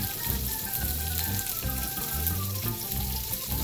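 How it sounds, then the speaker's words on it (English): Green beans sautéing in a pan crackle and sizzle steadily up close, with low background tones running beneath the frying. "Now it's time to saute the green beans."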